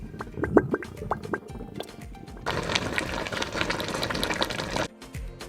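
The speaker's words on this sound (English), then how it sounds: "The operational activities of the fridge can sometimes produce a boiling or gurgling sound, which is completely normal." Refrigerator gurgling and bubbling as refrigerant flows through its coils: a few short liquid pops at first, then a sustained louder burbling rush that cuts off near the end.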